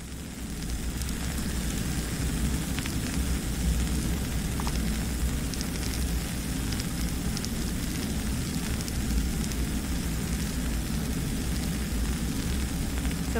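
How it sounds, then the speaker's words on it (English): Espresso crema crackles as countless tiny bubbles burst across its surface, a dense, continuous fizzing hiss held close and steady with no voices. "So what you're hearing is the sound of crema."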